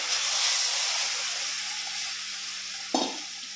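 Hot water goes into a pan of roasted semolina for mango rava kesari, raising a loud steady steaming sizzle that fades slowly, with a brief clatter near the end.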